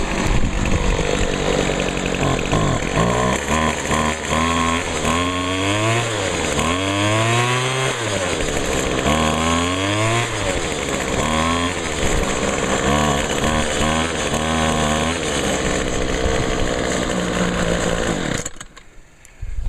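A Poulan Pro PP125 string trimmer engine runs continuously, close and loud, with a buzzing two-stroke tone that repeatedly revs up and drops back, likely with a carburetor needing low speed adjustment, before cutting off at the end.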